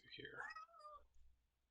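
A cat gives a single drawn-out meow, falling in pitch and fairly faint, over a quiet background with a person talking nearby.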